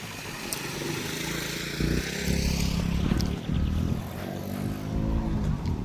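Motorcycles and other vehicles pass along a wet road, a steady close engine rumble that swells louder around the middle and stays continuous throughout.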